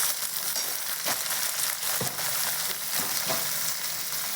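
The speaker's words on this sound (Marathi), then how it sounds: "आता टाकायचं छान मस्त तेलात, टोमॅटो परतून घ्यायचं मस्त तेलात" Tomatoes sautéing in hot oil in a pan, a steady close sizzle with soft stirring scrapes now and then, no voices.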